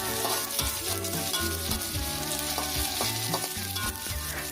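Spices for mie habang frying in a pan, a dense steady sizzle with the scrape and clatter of a spatula stirring in an uneven rhythm, close and continuous, no voices.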